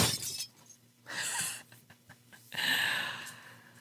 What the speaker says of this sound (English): Oops, see, we're crashing.